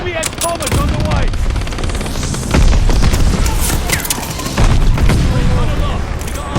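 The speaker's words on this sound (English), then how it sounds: "Watch your head, shells falling. Allied mortar fire inbound." Mortar shells burst in a sniper video game, with booms and rattling gunfire piling up in a dense, loud battle mix while game voices call out over the noise.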